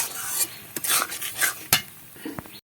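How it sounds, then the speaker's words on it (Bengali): Irregular scrapes and clinks of a utensil against a pan as long bean paste is stirred over low heat to dry out, with a faint sizzle between strokes, ending in a brief silence. "এটাকে এইভাবে নাড়ে নেড়ে নেড়ে শুকনো করে নিতে হবে"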